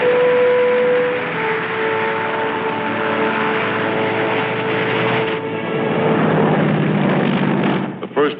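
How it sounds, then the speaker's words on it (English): Propeller airplane landing on a freshly cleared military airstrip on Guam, a loud steady engine drone with tonal hum that shifts and swells near the end as it passes close. "The first plane landed just 24 hours after the Seabees had started to work. The second one lands 1 minute later."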